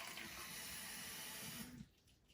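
Tap water runs steadily from a kitchen sink faucet, a loud broadband rush that cuts off near the end as the flow is shut.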